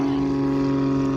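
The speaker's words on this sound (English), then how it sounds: "Aeroplane." An aeroplane passing overhead outdoors, a steady droning engine hum with sustained low tones, loud and continuous through the whole moment, no talking over it.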